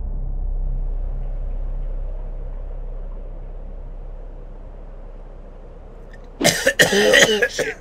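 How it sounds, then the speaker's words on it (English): A person coughs in a harsh, rapid burst of several coughs near the end of a Minecraft roleplay film scene, loud and close after several seconds of low, steady rumbling background. "Your coughing is getting worse."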